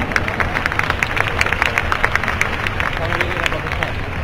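An audience at the Premios Despuntan awards ceremony at Cosmobelleza 2010 gives sustained applause, a steady wash of many hands clapping with crowd murmur throughout.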